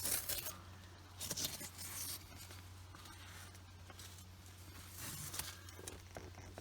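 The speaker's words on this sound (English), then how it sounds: "Peel the tape off." Tape being peeled off coated leather or vinyl, giving quiet rasping, tearing bursts at a close distance over a steady low hum, with no talking.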